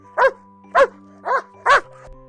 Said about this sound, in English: Toto barked bravely.